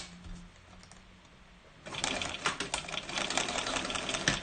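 A sewing machine stitches a 3/8-inch seam through a bag strap and exterior, starting after a quiet opening and then running in a steady, close, rattling burst to the end.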